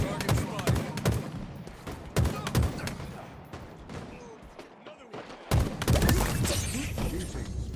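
Rapid bursts of video game gunfire crackle close and loud, with dense volleys of shots and a brief lull midway, mixed with a few spoken words.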